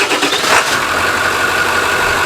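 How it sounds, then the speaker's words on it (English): A Ford 7.3 L Powerstroke diesel engine cranks and fires on the first try, a short burst of starting noise settling at once into a steady, loud, close idle clatter with no voices. "Let's go ahead and stick the keys in it and fire it up here"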